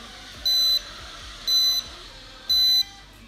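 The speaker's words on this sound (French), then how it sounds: "Ça se met à biper." Three high electronic beeps from a toy motorbike switching modes, each about a third of a second long, spaced roughly a second apart over a low background hum.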